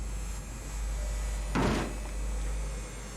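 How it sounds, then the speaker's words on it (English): A door bangs once, loud and close, in the horror game Outlast: Whistleblower, rising from a low steady ambient hum with faint thuds around it and no talking. "Is that the door that's banging?"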